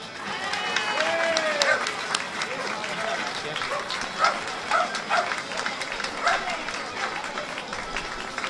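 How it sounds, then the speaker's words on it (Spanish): Crowd applause at a street protest against rail walls in Murcia, scattered clapping and cheers outdoors amid traffic and a barking dog, moderately loud and uneven. "Con todos nosotros, un fuerte aplauso."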